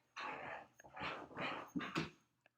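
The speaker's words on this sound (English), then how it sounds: "I'm sorry if you hear my dogs right now. They are starting to fight" Several dogs fighting indoors, with a run of snarling, growling and whimpering bursts, moderately close and loud, each lasting under a second, ending in a short yelp.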